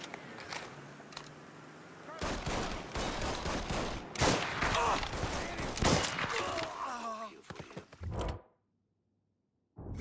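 Gunfire bursts in the Mafia III video game, a dense run of loud shots and impacts crowding the middle of the clip before cutting to near silence, with faint game voices beneath.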